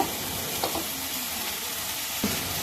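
Food sizzling in a hot pan with a constant hiss, broken by a couple of soft scrapes and knocks of a spoon stirring.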